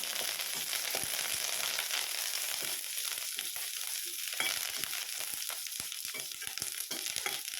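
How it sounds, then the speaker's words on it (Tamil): Curry leaves sauté in a pan while thoothuvalai chutney is made, giving a soft continuous sizzle broken by stirring scrapes and light clicks of the spoon against the pan, moderately close with no voices. "கருவேப்பிலையும் நல்லா வணக்கலாம்."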